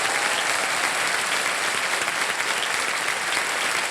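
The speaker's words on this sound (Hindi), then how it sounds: "तालियां बजती रहे।" A TV quiz show studio audience applauds a contestant's winnings with dense, even, sustained clapping from many hands. It runs loud and continuous throughout, with no voices over it.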